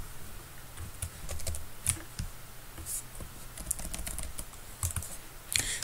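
Keys clatter on a computer keyboard in quick irregular bursts of close, crisp clicks, with short pauses between runs and a few louder strikes.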